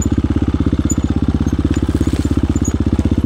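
A hard enduro trail motorcycle engine runs steadily close by, its rapid, even firing pulses forming a continuous throbbing drone with no gaps.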